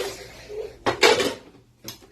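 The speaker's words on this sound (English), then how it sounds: "Alright, so we get the frying pan with the cover." A frying pan and its lid are handled in a home kitchen while a Jamaican curry chicken dinner is cooked, giving a few sharp metallic clanks and scrapes in short separate bursts, close by, with no talking.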